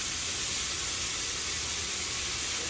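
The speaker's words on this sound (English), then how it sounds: "Just come over here and hear that good sizzle." Vegetables and tofu frying in a hot pan make a steady, dense sizzle that holds even and loud without a break, close up and with no talk over it.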